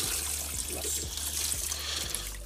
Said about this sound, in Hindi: तो देखिए हमारा पानी जस्ट एक बाल्टीन भरने वाला है